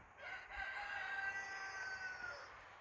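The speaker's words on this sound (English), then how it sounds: "The hens are out and about." Hens calling outdoors in snow, a steady mix of drawn-out crowing-like cries and clucks at moderate distance, with no talking.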